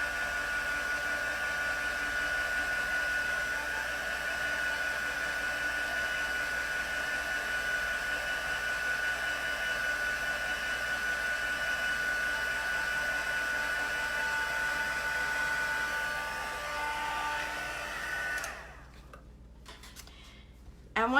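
A heating element blows steadily to dry a sticky transfer, a constant close whooshing drone lasting about eighteen seconds before cutting off, followed by a brief quiet tick or two.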